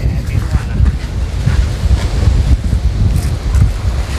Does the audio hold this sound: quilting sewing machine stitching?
no